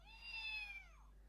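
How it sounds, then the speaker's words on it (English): A Takara Tomy Sox robotic kitten toy gives a single short, grumpy electronic meow built from real kitten sounds as its head is stroked. The meow is faint and steady, heard close up over a low hum. "even the meows sound grumpy, don't they?"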